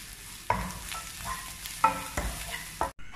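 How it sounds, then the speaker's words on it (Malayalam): Spiced potato filling for aloo paratha sautéing in a pan with chilli and mango powder, a soft sizzle under sharp scrapes and stirring knocks of a spoon, close and alone. "ഇതെല്ലാം നന്നായി വഴറ്റിയെടുക്കാം."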